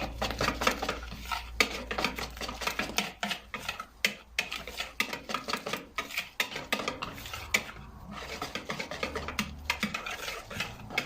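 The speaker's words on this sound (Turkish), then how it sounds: "Karıştırıyorum." Spoon stirring crepe börek batter in a bowl, a quick run of sharp clinks and scrapes against the sides, irregular and close, continuing for several seconds with a low hum beneath.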